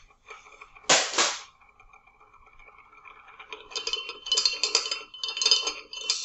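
Magnetic stir bar spinning too fast in a lab container and jumping around, producing one sharp clatter followed by bursts of rapid glassy rattling in an otherwise quiet room.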